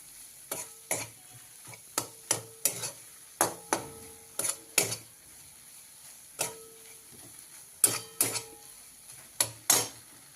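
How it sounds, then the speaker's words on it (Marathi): Onion and tomato are sautéed in oil for an egg curry, with a quick, steady run of spatula scrapes against the pan over a faint sizzle, close and fairly loud. "तेलामध्ये आपण चांगलं परतून घ्यायचं आहे"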